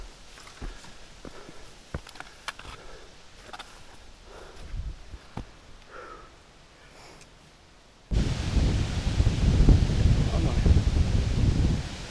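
Cool July wind gusting on the open slopes of Mount Parashka, a steady broadband roar that turns markedly louder and closer in the final seconds, following a quieter stretch with faint rustling and scattered soft knocks.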